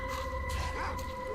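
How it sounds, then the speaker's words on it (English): Dogs howl in a video game, a drawn-out wavering cry over a steady hum of game background sound, fairly close and alone without talk. "it sounds like there's some dogs or something around here."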